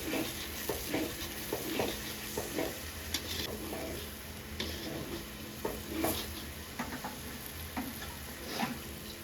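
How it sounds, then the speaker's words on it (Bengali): Spices fry in a pan for vegetarian khichuri, giving a steady, dense sizzle with intermittent scraping and stirring clicks from a spoon, close and continuous without speech. "মশলা কষানো হয়ে গেছে"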